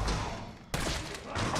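Gunfire in the Resident Evil 3 remake, a dense burst of shots with a sharp renewed volley partway through, loud and close with no talking.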